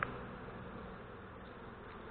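Honey bees buzzing steadily during transfer into a small mini nuc box in Malaysia, a continuous dense hum of many wings, fairly close and unbroken.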